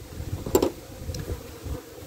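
Honey bees buzz softly in an opened hive during end-of-season beekeeping, a low steady drone with a faint closer buzz passing briefly.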